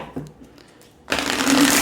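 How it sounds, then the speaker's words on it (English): Tarot card deck shuffled by hand close up, a sudden loud rapid riffle of cards after a quiet pause, continuing to the end. "I want to shuffle it really good and get our cards down that we want to look at"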